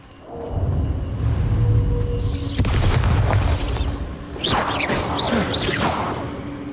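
Bombarda spell blasts in Hogwarts Legacy: a deep booming explosion rolls in with whooshing bursts, followed by further crackling impacts and swishing magical effects, loud and sustained throughout.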